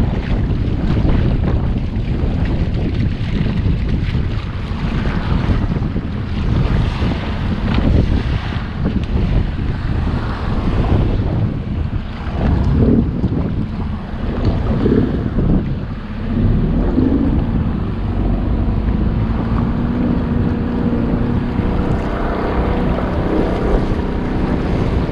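A boat creaks and sways on rough water while strong wind buffets the microphone and waves slosh steadily around the hull.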